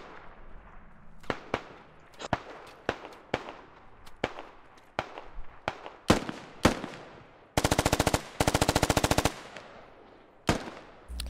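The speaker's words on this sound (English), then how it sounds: "Lots of blind firing happening here" Gunfire in the military video game SquadOps: sharp single shots spaced irregularly, then two long rapid automatic bursts, with more scattered cracks afterward, loud and close.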